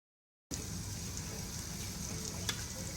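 Butter sizzles and fries steadily in a pan with mushrooms, a continuous close crackling hiss that starts abruptly and holds at an even level, with one brief louder pop near the end.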